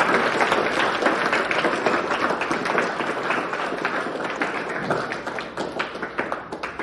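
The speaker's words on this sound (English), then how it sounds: "So let's give again a good round of applause." A workshop audience breaks into a long, brisk round of applause, many hands clapping close and loud, the dense patter easing slightly toward the end.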